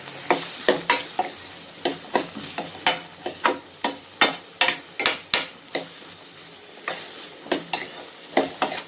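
Bottle gourd dusted with turmeric fries in a pan while a spoon stirs it, giving steady scraping strokes every half second or so over a soft sizzle, close and fairly loud with no voices.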